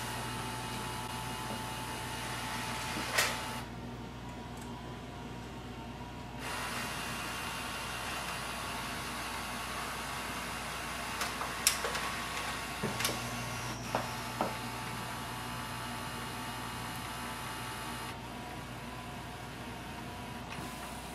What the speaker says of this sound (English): So I'm going to scan a page.